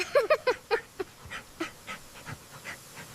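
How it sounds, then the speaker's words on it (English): A golden-furred dog being dried in a towel gives a few short, close woofs, then settles into soft rhythmic panting breaths that fade to quiet puffs. "Playful woof, shaking his soft golden fur happily in the towel."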